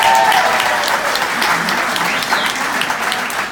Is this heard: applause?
yes